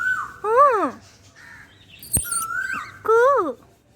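A bird identified as an Asian koel calls nearby with loud, rising-and-falling wailing notes repeated three times, mixed with a short whistled imitation and faint background chatter.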